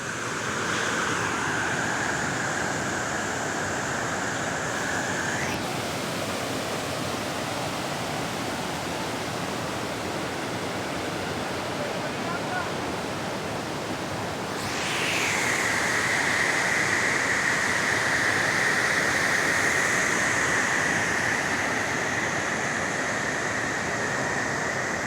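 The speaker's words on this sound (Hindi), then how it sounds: "ये आवाज़ जो है पानी की है।" Steady rushing roar of the Dir river flowing over rocks, a dense broadband wash heard close and continuous, with a faint higher whine fading out and back in partway through, no voices.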